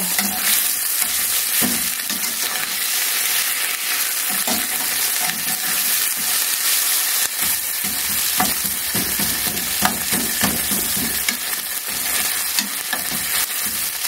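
Butter sizzles in hot olive oil in a pan for pork fried rice, a steady loud crackle running throughout with intermittent scraping stir strokes and no voices.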